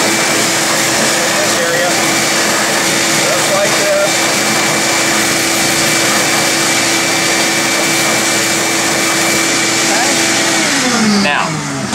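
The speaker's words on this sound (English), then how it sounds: "just real fast I'm going to run the shop vac here. It'll be a little bit noisy." A shop vac with a brush attachment roars steadily while cleaning out a JBL 2226 woofer during a recone, a loud continuous whine that holds for about eleven seconds and then cuts off near the end.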